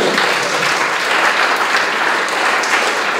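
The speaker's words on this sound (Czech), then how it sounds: "to zaslouží potlesk" Students and guests at a national biology olympiad final round give a dense, loud burst of applause, a continuous crackle of many hands clapping at once for about three seconds.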